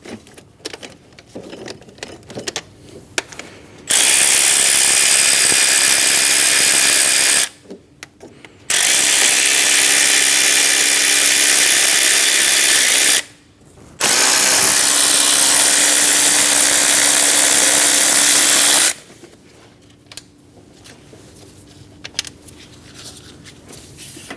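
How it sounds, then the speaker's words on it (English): A 10mm socket ratchet loosens the valve cover bolts on a 2005-2009 Subaru Legacy. There are three long, loud, steady bursts of close mechanical rasping, separated by short pauses, with quieter workshop noise before and after. "Using a 10mm socket, remove the 3 bolts."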